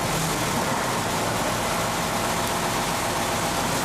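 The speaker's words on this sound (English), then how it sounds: "run the engine at idle" A generator engine idling with automatic controller equipment, a steady, even low rumble held close and continuous throughout, with no voices.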